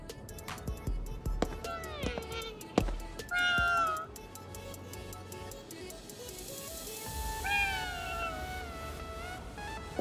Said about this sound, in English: Is that a cat? Technically, it's a yokai.